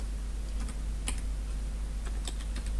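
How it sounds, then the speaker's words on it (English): Typing on a computer keyboard, heard as sparse, crisp key clicks scattered over a steady low hum. "So I'm going to type AZ"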